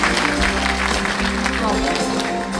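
An audience applauds at a book launch for the Chungbuk provincial governor, with a dense wash of clapping that continues under a loud voice.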